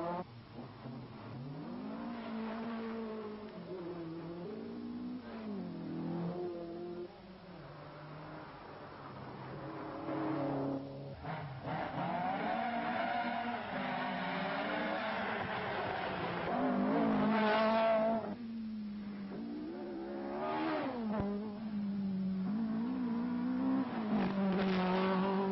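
A Ford Escort rally car at speed on a stage of the 1987 Donegal rally, its engine revving hard and rising and falling through the gears, with tire scrabble, sustained and fairly near, no voices.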